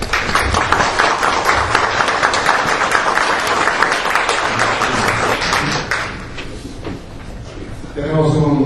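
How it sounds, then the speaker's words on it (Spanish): An audience applauds a lecturer at an academic talk on professional ethics, dense sustained clapping that fades out, followed by a voice speaking. "un aplauso aquí también para el doctor Juan Martín López Calva"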